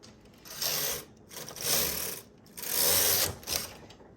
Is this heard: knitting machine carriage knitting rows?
yes